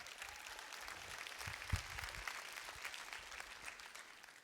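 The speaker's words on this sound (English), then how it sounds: "Give yourselves a round of applause." A convention audience at a National PTA address gives a round of applause, a soft, steady wash of many hands clapping, distant and faint with no voices.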